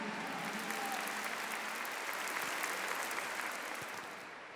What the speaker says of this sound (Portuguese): Uma salva de palmas a esse casal,